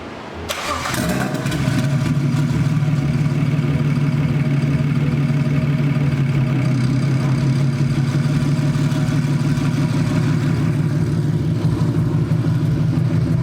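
A BMW-swapped engine in a 1949 Ford body with Motiv Reflex tuning cranks and catches, then settles into a steady, loud idle with a low, even rumble that continues throughout.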